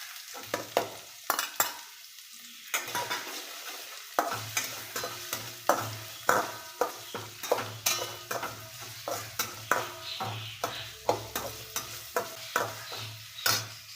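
Onions and tomatoes fry in a pan with a steady sizzle, while a spoon stirs and scrapes in frequent, rhythmic strokes, close and fairly loud, with no talking.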